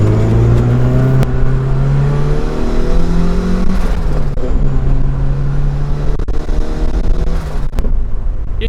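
Turbocharged Mazda Miata engine pulling hard with boost turned up, a loud, close, sustained drone whose pitch climbs and steps through gear changes, with brief clicks and mechanical rattle over the top.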